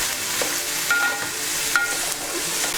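Onions fry in a pan until browned, giving a steady close sizzle with occasional stirring scrapes and no voices.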